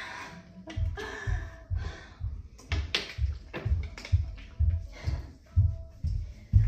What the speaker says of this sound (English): People are like stomping around upstairs.